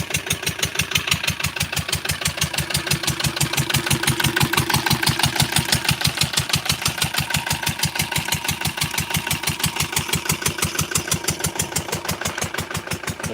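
An engine-powered crop sprayer runs in rain on a farm, its small engine pulsing in a fast, even, steady beat, close and loud throughout with no talk.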